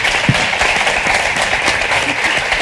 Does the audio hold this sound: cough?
no